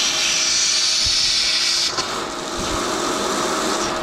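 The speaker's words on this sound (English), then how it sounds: "Let's let out some of that extra air." Extra air hisses out of a pool DE filter as it is bled off, a loud, steady, close rush that dips briefly around the two-second mark before continuing.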